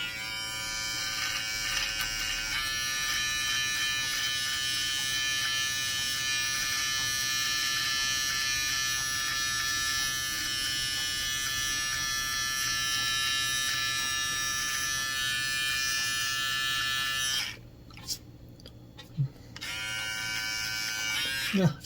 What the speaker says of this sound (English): let's try the precision trimmer on the other side